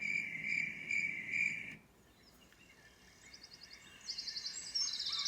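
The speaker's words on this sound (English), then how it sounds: "We have crickets," A cricket sound played from an ICETEK white noise machine gives a loud, rapid pulsing chirp that stops abruptly partway through, then fainter, quicker trills return near the end.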